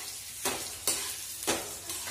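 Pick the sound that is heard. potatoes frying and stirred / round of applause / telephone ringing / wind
potatoes frying and stirred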